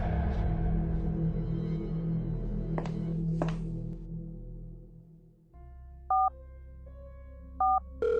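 Phone keypad tones beep in short pairs after a few dull knocks and a fading rumble, set against a low steady hum.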